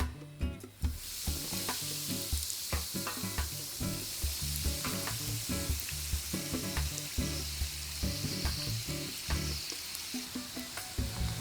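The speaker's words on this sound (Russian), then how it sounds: "На разогретую сковороду с небольшим количеством растительного масла порциями выливаем тесто" Pancake batter sizzles steadily in hot vegetable oil in a preheated frying pan, with crackling pops and a few scraping clicks over a constant hiss, no voices.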